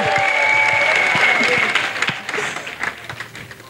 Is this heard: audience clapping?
yes